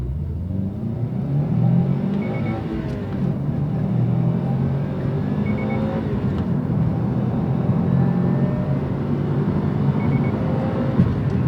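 2021 Subaru WRX STI engine pulling uphill from inside the cabin, a steady low drone and rumble with slight rises in revs, continuous and fairly loud.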